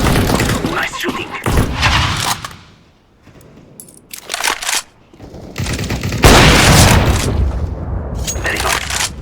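Gunfire in the video game CS:GO, with bursts of loud shots clustered across the clip, dropping to a lull midway before heavy firing resumes; a voice talks over parts of it.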